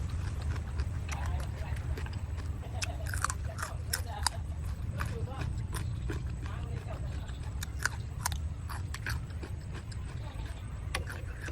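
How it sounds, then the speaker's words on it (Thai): Crispy snack being chewed close to the mic, with repeated sharp crunches over a steady low background hum and murmur, no clear talk. "ขนมกรอบกรอบ"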